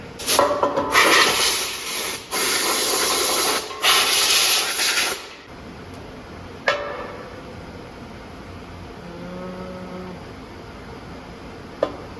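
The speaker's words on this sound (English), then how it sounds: "Let's grab a blowgun." An air blowgun blasts compressed air over an aftermarket oil pan for an LS engine in a 1968 C10 build, a loud hissing rush in three long bursts, followed by quieter shop clatter and faint clanks.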